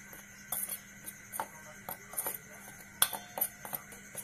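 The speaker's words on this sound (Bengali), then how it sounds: "এবার ভালো করে মশলাগুলো মিশিয়ে নিচ্ছি।" A spoon works chili, turmeric and cumin powders and salt into eggplant pieces, giving faint, scattered clinks and light scrapes against a dish at an irregular pace over a quiet background.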